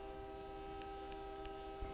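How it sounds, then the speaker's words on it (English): A train passing at night: a loud, steady rumble carrying sustained horn-like tones that holds for the whole stretch without a break. "This fucking train comes by at night."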